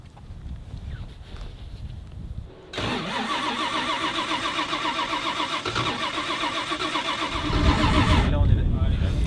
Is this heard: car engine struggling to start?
yes